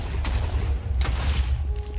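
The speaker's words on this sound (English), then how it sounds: "Wow, that was a bad explosion." TNT explosions in Minecraft, two sharp booming blasts about three-quarters of a second apart over a low rumbling background, loud and close.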